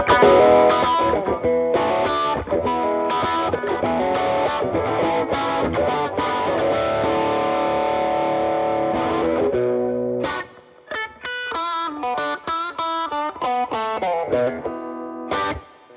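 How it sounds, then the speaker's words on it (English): Distorted electric guitar played through an Epiphone Les Paul Studio with its pickups wired out of phase gives a thin, nasal, wah-like tone. Dense strummed chords run for about ten seconds, then sparser picked notes follow, loud and close with no talking. "put the pickups out of phase with each other, and that's where the magic happens"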